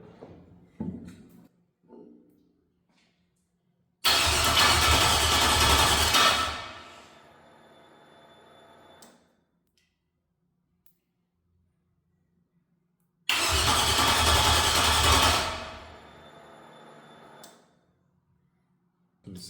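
An LS V8 engine with EFI starting twice, each time a loud burst that fires up and drops to a quieter idle before shutting off, with short talk and clicks in between.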